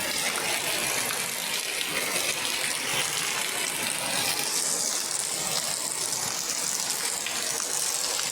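Heavy typhoon rain pours down steadily in a dense, continuous roar, with water gushing and splashing close by, unbroken throughout.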